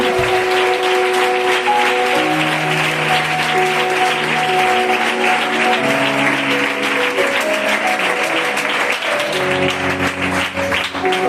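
A church congregation at Vistabella applauds, a dense steady patter of many hands over sustained keyboard or organ chords that play throughout.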